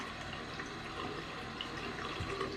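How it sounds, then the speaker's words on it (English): A steady trickle and rush of water drains from a darkroom overflow hose controlled by a clamp, a continuous close gurgling flow with no voices. "This is the overflow hose. This one comes from the chamber down here. So you use this clamp to kind of control. You just want to let a little bit of water out."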